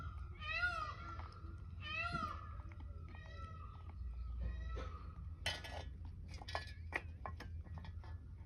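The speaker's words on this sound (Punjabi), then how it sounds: "ਆ ਦੇਖੋ ਕੰਡਾ ਬਿੱਲਾ ਆ" A white tomcat meows three times, drawn out and close by, followed by light clinking of dishes and scattered knocks in a domestic setting.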